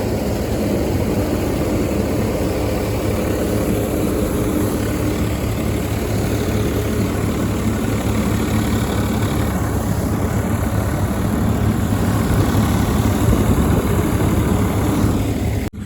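A 2024 Swaraj 855 tractor engine idling with a trolley hitched behind it, a steady, loud low rumble that runs unbroken and close throughout, with no voices.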